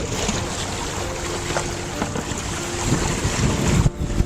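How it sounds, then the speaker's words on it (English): A sailboat cruises under sail with its motor off, wind buffeting the microphone and water rushing steadily along the hull, loud and continuous with a slight swell toward the end. "Wind picked up probably at least about 4 knots since we left."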